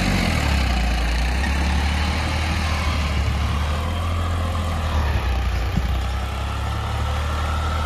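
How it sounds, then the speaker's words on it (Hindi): A New Holland 35 hp tractor engine runs steadily while pulling a cultivator in a field, a loud, close, continuous diesel drone with a constant low rumble and no talk. "35 HP ट्रैक्टर है"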